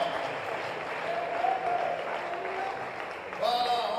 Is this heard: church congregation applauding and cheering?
yes